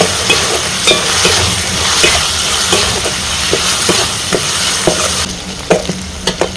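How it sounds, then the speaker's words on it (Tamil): Onions frying in oil in a pan with curry leaves while making egg kothu parotta, a steady loud sizzle with repeated stirring scrapes and taps throughout. "தேவையான அளவு எண்ணெயை சேர்த்து அதோட வெங்காயத்தை போட்டு நல்லா வதக்கிக்கிடலாம்."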